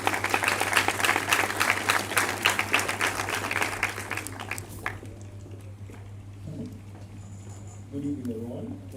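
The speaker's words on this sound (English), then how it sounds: "let's give it up for Auntie Rebecca Newman-Chung" Audience applause at a medical school pinning ceremony, a dense burst of clapping filling the hall for about five seconds before fading to scattered claps and murmured voices.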